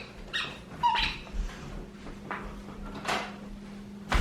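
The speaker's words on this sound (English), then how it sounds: "The dog is squeaking his toy" Sharp, high squeaks from a dog's chew toy come in scattered bursts, some close together, against a low steady hum and faint household noise.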